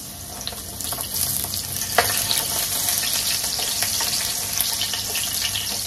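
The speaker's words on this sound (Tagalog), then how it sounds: "Lagyan na natin yung sibuyas." Onions hiss and crackle as they hit hot oil in a pan, a steady bright sizzle with one sharp clack near the middle, close by with no voices.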